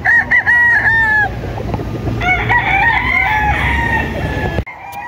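Young gamecock stags on a hillside chicken farm crow loudly and close in repeated overlapping calls, with clucking and a busy flock noise underneath, ending abruptly.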